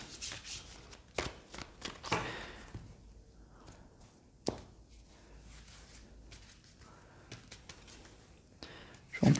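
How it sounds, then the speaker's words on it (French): Triade oracle cards being drawn and laid down by hand, with scattered soft shuffles, slides and taps of card on card across the span, some sharper flicks standing out, all close and fairly quiet. "on va prendre quelques cartes de l'oracle de la Triade. Que je vais placer sur certaines cartes."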